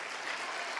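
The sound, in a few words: audience applause in church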